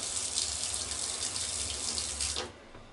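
Water runs and drains steadily through a bathroom sink drain fitted with a corrugated pipe and a check valve, a close splashing rush that drops off sharply near the end.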